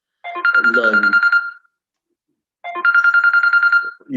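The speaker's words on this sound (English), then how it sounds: "let me turn off my phone." A mobile phone rings in two bursts of rapid, trilling electronic tones separated by a short pause, loud and close in a lecture setting on conflict transformation, with a voice briefly audible under the first burst.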